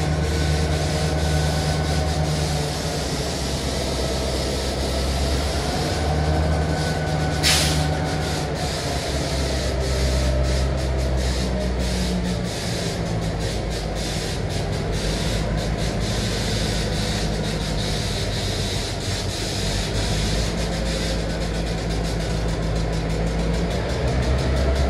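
A railroad demolition car rolls past on the line beside a rail diamond, giving a loud, continuous rumbling and grinding roar with a steady low drone that runs throughout.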